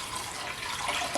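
Water pours steadily into a pot for waterbath canning of pickled carrots with onions and jalapeno, a brief continuous splashing stream close by.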